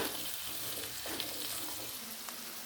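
Fresh black-eyed peas sautéing with onions in a pan: a quiet, continuous sizzle with light crackles and a couple of soft stirring clicks, close by and without talk.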